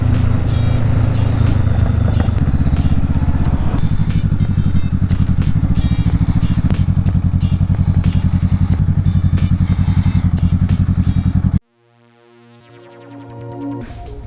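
A Can-Am Ryker three-wheel motorcycle rides with a loud, steady engine drone and a rattly texture. The engine sound cuts off abruptly near the end, and a quieter rising whoosh follows.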